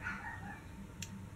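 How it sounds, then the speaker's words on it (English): Dogs bark faintly in the distance behind a low steady background hum, with one brief sharper burst near the end. "I'm so sorry if you guys hear my dogs barking."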